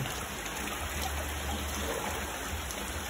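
Steady rain hisses continuously, a soft, even wash of falling water with no other sounds standing out.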